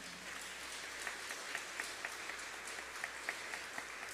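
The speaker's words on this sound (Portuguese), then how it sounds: "Pode aplaudir o homem que você não sabe o nome." Audience applause fills a church, a steady wash of clapping at moderate distance with a few sharper claps standing out, fairly quiet overall and continuous throughout.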